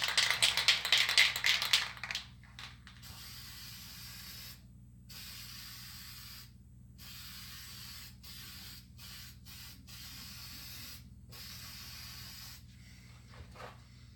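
Duplicolor spray paint hisses from an aerosol can onto the interior trim of a Chevy Cobalt in one close, loud burst of about two seconds, then quiet room noise with a few brief clicks.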